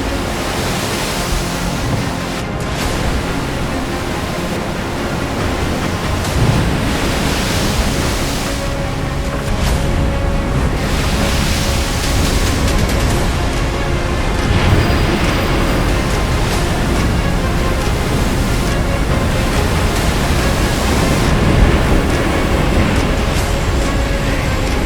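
A steady, loud wash of wind and breaking waves at sea, continuous and rushing with occasional surges.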